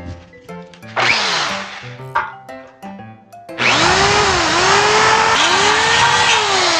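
A cordless drill bores a hole in metal for a blind rivet, with two short whirring bursts and some clicks, then a loud sustained drilling whine that rises and dips as it cuts, close up.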